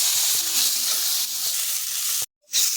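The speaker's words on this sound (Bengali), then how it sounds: "বেগুনটাও হালকা করে ভেজে নেবো" Eggplant pieces fry lightly in hot oil in a pan, cooked for a hilsa fish curry with potatoes: a steady, close, bright sizzle that drops out abruptly for a moment near the end, then resumes. No one speaks.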